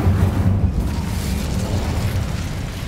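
The Incendio fire spell cast in Hogwarts Legacy, a loud, low, rumbling whoosh of flame that holds steady for a few seconds.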